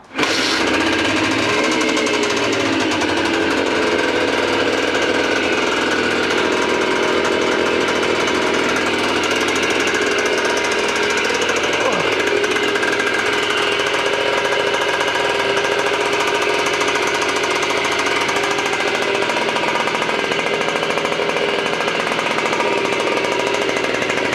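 A restored Honda MT50 motorcycle that only runs with the choke on is kick-started and catches at once, then idles loudly and steadily with a busy, rattling buzz that stays close and continuous throughout.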